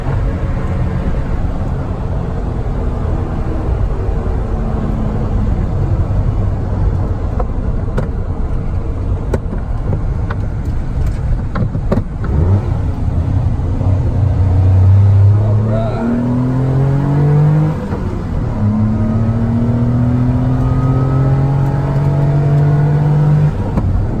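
A 1990 Mitsubishi MiniCab kei van with a 5-speed drives on Interstate 4 near Sanford, its engine droning and rising in pitch through the gears with steady road rumble, while people talk over it throughout.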